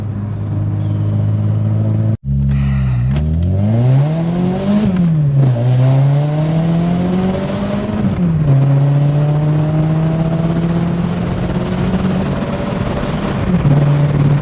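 Volkswagen Golf G60 engine revving hard and close, pitch climbing through several gears with brief dips at each shift, a loud sustained acceleration roar with no talk over it.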